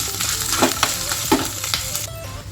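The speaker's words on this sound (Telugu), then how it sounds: "పన్నీర్ అయితే వేపేస్తాను" Paneer pieces sizzle and crackle in hot oil in a pan, with a few louder scraping stirs against the pan, up close.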